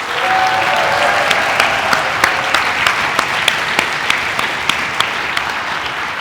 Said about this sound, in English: Can I have a big round of applause for all our first-time speakers tonight?